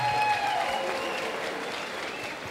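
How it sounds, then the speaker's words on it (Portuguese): Audience applause at the final of a song contest, a continuous crowd clap that fades slightly over a few seconds, with tonal music or voices sounding over it. "Uma grande salva de palmas para a professora Marta."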